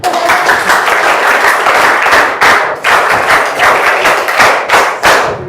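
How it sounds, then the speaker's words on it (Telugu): An audience at a school parent-teacher meeting claps in bursts, loud and close, with dense rhythmic clapping broken by a few short pauses and thuds. "చప్పట్లు కొట్టిండ్రా."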